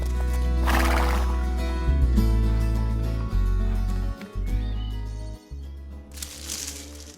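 Storybook sound effect of a horse neighing loudly, with steady clip-clopping hooves underneath and a second whinny near the end, set against music.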